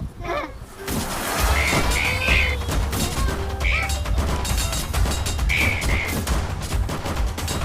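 Gunfire in the battle game Animal Revolt Battles, rendered as dense, sustained volleys of rapid shots with crashing impacts running nearly the whole stretch, loud and busy, with no talk over it.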